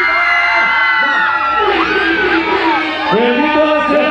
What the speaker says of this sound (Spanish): ¡El grito nacional de 1, 2, 3, el grito!